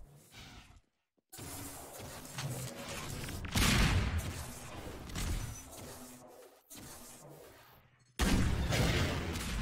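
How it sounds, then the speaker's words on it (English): RPG rocket launches and explosions in Half-Life 2 Deathmatch during a 2v2 cup final, a run of loud booming blasts and whooshes separated by brief silent gaps. "that RPG shot"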